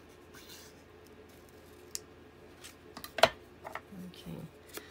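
Scissors snip through paper while cutting streamer-like strips for a junk journal pocket, a few sparse, soft cuts and rustles close up, one sharper snip standing out, with a brief low voice murmur near the end.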